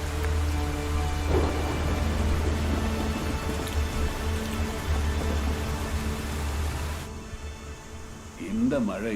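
Heavy rain pours steadily in a dark horror film scene, a dense continuous hiss with low rumbling underneath, while voices speak over parts of it.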